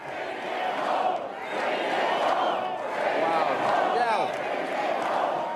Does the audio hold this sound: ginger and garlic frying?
no